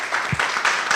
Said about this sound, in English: Clap for Phoebe.